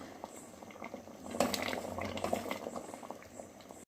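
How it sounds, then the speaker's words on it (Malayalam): A pot of beetroot curry bubbles on the stove, with soft, irregular boiling pops and gurgles that are fairly quiet and close, and no talking. "നമ്മളെ കറിയെല്ലാം തിളച്ച് വന്നിട്ടുണ്ട്"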